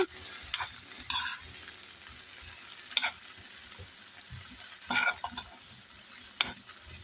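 Vegetables for a chicken and lentil curry frying in a pan, with a steady soft sizzle and several sharp stirring scrapes and clatters at irregular intervals, close and moderately quiet.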